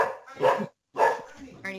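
Pet dogs give two loud, close barks with a short gap between them, then a higher yip at the end.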